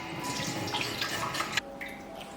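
Running tap water pours steadily into a sink as a scaleless sea fish is rinsed, close and moderately quiet, with brief splashes as the fish moves under the stream.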